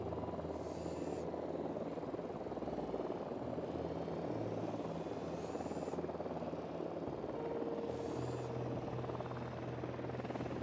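Helicopter in the shooter game Ghost Recon Wildlands closing in, a steady rotor drone with engine whine that persists throughout, moderately loud, with faint chirpy bursts recurring over it and no speech.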